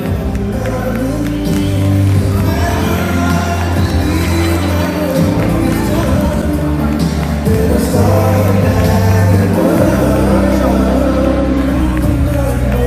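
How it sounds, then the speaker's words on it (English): A reception crowd bursts into applause and cheering, whoops and shouts rising over clapping and chatter, loud and close throughout with music thumping underneath. "Let's give a round of applause, ladies and gentlemen."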